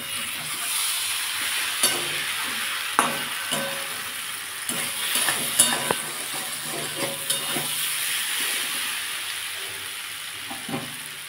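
White sesame seeds fry in a pan with a steady sizzle and hiss, while a spoon stirs them with scraping strokes and occasional metallic clinks, close up and without talk.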